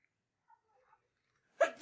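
A single sharp sneeze bursts out near the end, close and loud after a near-silent stretch with only faint, scattered quiet noises before it.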